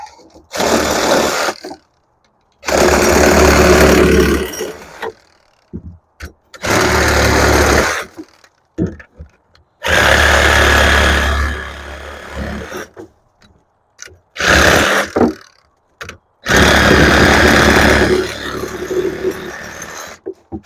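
Chainsaw cutting through peach tree logs during a tree removal, loud revving bursts of a few seconds each separated by short pauses, close by with no talking.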